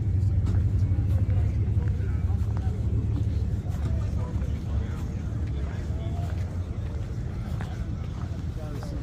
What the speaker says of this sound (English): There goes my dad's old Coupe de Ville